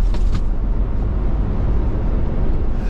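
Electric Mercedes-Benz G-Class G 580 accelerating hard, giving only a low steady rumble of road and wind noise with almost no motor sound, continuous and close from inside the cabin.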